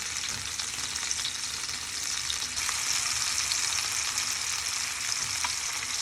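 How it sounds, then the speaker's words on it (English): Meat sears in a hot pan with a strong, steady hiss and fine crackle, close and continuous throughout, with faint ticks and no speech. "So I want all sides to be seared."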